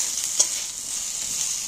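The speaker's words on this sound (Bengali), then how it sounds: "এই জন্য নাড়াচাড়া করে একটু ভালো করে ভেজে নিলে খেতে ভালো হবে।" Potatoes fry in oil with a steady hiss while a spoon scrapes and stirs them, one sharper scrape standing out early, close and alone.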